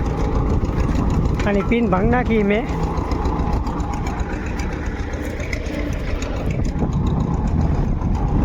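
A tractor engine idles with a steady low rumble while someone speaks briefly over it.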